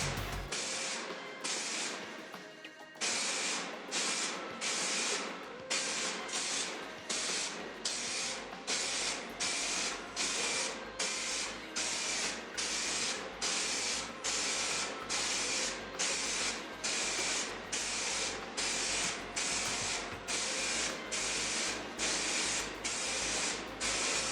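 A spray can applies primer to a Jackson guitar body in a long series of short, loud hissing bursts with brief pauses, following an even rhythm, heard up close.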